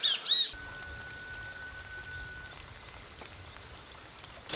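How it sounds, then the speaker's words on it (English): Light rain pattering steadily in a wetland at Bañado La Estrella, faint and continuous, opened by a brief bird call and a thin whistle-like tone. "So it's still raining,"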